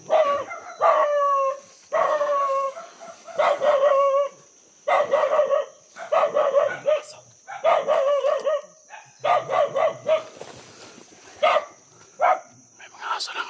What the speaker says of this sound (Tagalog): May mga aso lang dito.